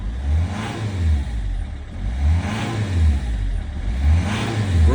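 Rough-running Citroen C5 diesel shortly after a cold start, engine droning nearby with three rhythmic surges in revs about every two seconds.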